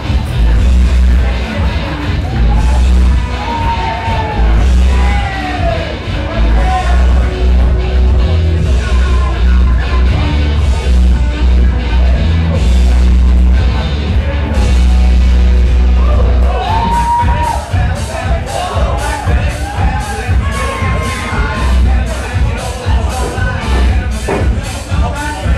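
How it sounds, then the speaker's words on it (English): A wrestling crowd at a Fighting Spear Wrestling show cheering, whooping and shouting as the wrestler Suntan enters the ring, loud and sustained throughout, with occasional bangs. "And the crowd reacting, of course, favorably to Mr. Suntan, as is always the case here at Fighting Spear Wrestling."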